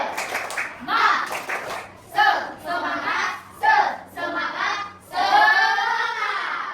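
An Indonesian classroom group performs the rhythmic 'tepuk semangat' clap routine, bursts of patterned hand claps mixed with children's shouting and chanting voices, loud and close, in several short rounds.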